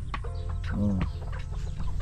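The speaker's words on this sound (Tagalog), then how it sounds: "ito pa tandang. Ito pa mga bagong sisiw tayo guys dyan" Rooster and newly hatched chicks on a backyard Filipino farm, heard as a near cluck with a short clear call in the middle, set against steady low outdoor background noise and no talk.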